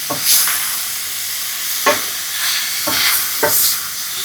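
Chicken for a chicken handi fries in a pan with a soft background hiss, while a few separate scrapes and clinks of stirring break through at irregular moments.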